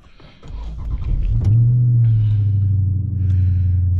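A car engine starts up and settles into a loud, steady low rumble at idle, running close by with a slight dip in level partway through.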